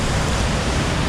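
A rain-swollen creek fed by a waterfall near Guadalupe, Colombia rushes in a broad, loud, unbroken roar of churning water, close and constant with no pauses.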